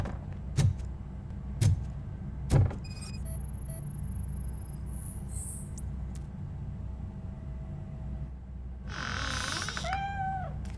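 Cat meowing in the Robocop: Rogue City video game, three sharp thumps followed by a low hum and electronic tones, then a plaintive, wavering meow near the end over steady background ambience.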